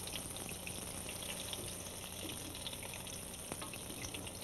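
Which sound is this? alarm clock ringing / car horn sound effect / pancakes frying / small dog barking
pancakes frying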